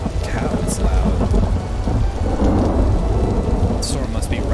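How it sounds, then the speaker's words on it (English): Loud thunder rumbles close overhead in Vintage Story while heavy rain pours steadily on the ground throughout, with a few sharp cracks standing out. "The storm must be right on top of us."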